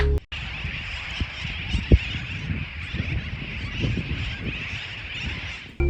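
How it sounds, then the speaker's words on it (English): A dense chorus of seabirds calling at the Dry Tortugas fills the air continuously, many birds chattering at once with a few louder honks poking through. "Now listen to all these birds back there."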